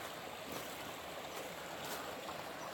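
A flowing creek rushes steadily at close range, a dense, continuous broadband wash of moving water with no talk.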